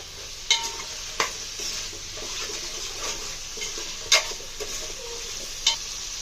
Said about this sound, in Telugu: దోసకాయ, పచ్చిమిర్చి యాడ్ చేసుకొని బాగా ఆయిల్లో మగ్గేలా కలుపుకోవాలి